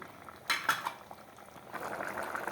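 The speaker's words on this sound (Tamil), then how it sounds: "நவரத்ன குருமா நல்லா கொதி வந்துருச்சு, நல்லா சேர்ந்துருச்சு" Creamy navratan kurma bubbles in a pan, a soft continuous simmer broken by a few sharp clinks of a metal utensil against the pan, heard close with no talking.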